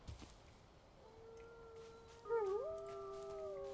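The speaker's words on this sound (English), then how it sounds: "the baby wolves howl in like infinitely." Baby wolves in the video game Valheim howl in drawn-out, overlapping tones that rise and bend together, steady and fairly faint over quiet game ambience.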